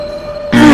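Train from the Train Simulator 2021 WCML South video game: a quiet tonal hum and faint whine for half a second, then a sudden loud, broad rumble with a low drone that holds steady to the end.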